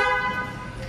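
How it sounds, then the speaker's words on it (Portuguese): A single sustained car horn honk from a 2024 BMW M2, loud and close, with a brassy, buzzy tone lasting about a second. "A buzina."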